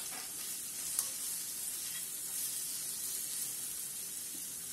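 Ginger garlic paste and dry spices fry in a pan for low-fat paneer butter masala, giving a steady, dense sizzle with soft stirring scrapes, close and continuous, with no talking.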